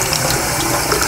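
Water pouring steadily out of a Clean + Pure Ultra water filter, a loud continuous close-up rush of flowing liquid with no talk.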